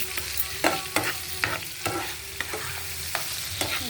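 Food frying steadily in a pan, with a continuous sizzling hiss broken by regular scraping stirs about every half second, close and clear with no voices.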